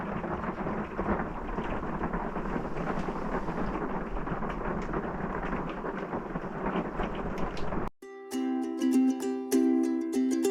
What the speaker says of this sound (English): It is pouring outside, but it's pretty relaxing just laying here on the bed and listening to the rain.